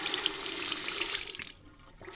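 Bathroom water tap running to rinse a safety razor, a steady hissing stream that breaks up and drops away partway through, close and alone.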